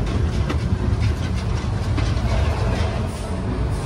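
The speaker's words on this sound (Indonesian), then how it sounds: "jadi digunakan sebagai kereta api wisata" The Ambarawa tourist train rumbles along the rails from Ambarawa to Tuntang station with a steady low roar and faint rhythmic clatter, continuous throughout.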